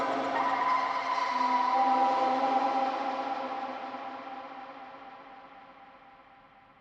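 Rusty gate creak processed through a J37 tape-emulation effect preset, becoming a sustained, smeared metallic tone with heavy echo that swells briefly and then slowly fades away alone over several seconds.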